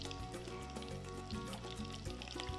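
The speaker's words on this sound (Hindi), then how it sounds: "ये बहुत बेहतरीन तरीका है इसे फ्राई करने का" Chickpeas frying in hot oil for chana jor garam, a steady dense sizzle with crackling pops throughout, close and continuous without speech.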